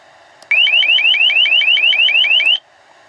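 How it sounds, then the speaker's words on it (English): An LRAD 100X broadcasts its recorded alert tone: a loud, close series of about twelve rapid rising electronic warble sweeps lasting two seconds, starting and stopping abruptly. "To broadcast a recorded alert sound, press the alert tone button."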